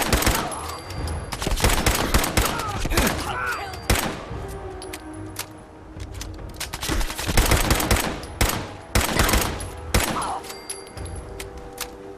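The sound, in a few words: gunfire in video game Fallout 4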